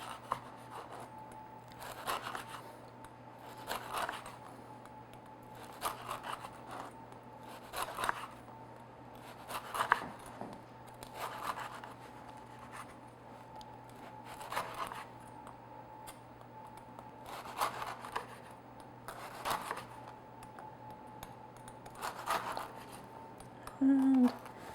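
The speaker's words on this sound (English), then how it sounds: "using a sharp knife, you could use, I'm just using a straight edge, you could use a serrated knife if you want. I'm just going to cut my slices." Straight-edge knife slicing through baked cappuccino biscotti, a series of about ten crisp, evenly spaced crunching cuts, close and moderately quiet, over a faint steady background hum.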